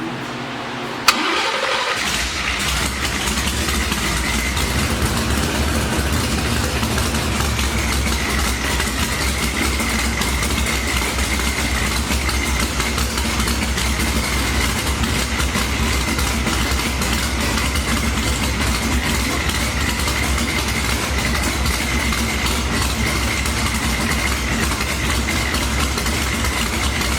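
A supercharged small-block Ford Mustang engine, newly converted to EFI and running on methanol, cranks briefly and catches, then settles into a loud, steady, rumbling idle that continues close by.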